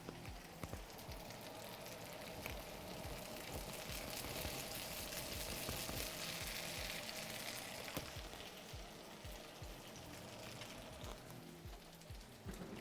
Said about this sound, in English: So right now I'm frying them on a medium heat as well.